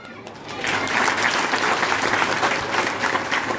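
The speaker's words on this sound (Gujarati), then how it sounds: "આમ જાણે હેલી થાય એવી તાળી પડવી જોઈએ." Audience applause at a village gathering, a dense, sustained clapping that swells after a quiet start and holds steady to the end, fairly loud and close.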